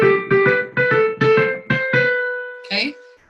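Several piano chords sound for the middle section of a simple song, played from the G position, each struck and held briefly in a steady rhythm, then a final higher note rings out alone, clear and close.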